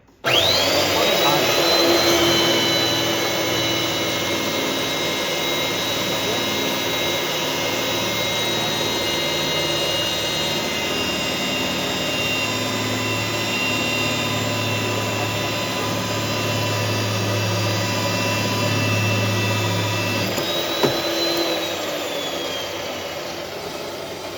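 A pipe threading machine cuts a thread on 20A steel pipe, its steady loud motor drone and grinding cut running continuously for about twenty seconds before a brief clunk as it eases off.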